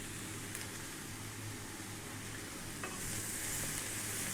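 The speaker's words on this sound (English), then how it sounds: "Beautiful, dry fry on this high heat. Let's get our potatoes in. Let's get our fresh chili in." Potatoes and fresh chili dry frying in a pan over high heat for an aloo baingan curry, a steady close sizzle and hiss with light stirring scrapes, brightening slightly toward the end.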